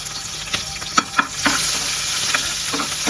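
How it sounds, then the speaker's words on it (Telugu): Red and green chillies crackle and sizzle in hot oil, with sharp pops and spits over a steady frying hiss, close and clear, with no voices. "2 మిరపకాయలు ఒట్టివి, 2 పచ్చివి, చిటా పటా అంటున్నాయి"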